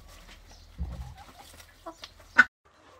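Chickens cluck on a village farm, a few faint, scattered calls over quiet background noise.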